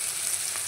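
Tomato paste with turmeric sizzles and fries in hot oil while being stirred, a brief dense crackling hiss heard alone and close.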